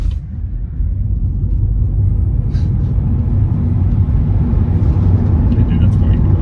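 Inside a Tesla Model 3 with Acceleration Boost as it launches, a deep road and cabin rumble holds steady throughout, with brief faint voices over it.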